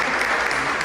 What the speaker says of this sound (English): I want to give a little round of applause for Stan.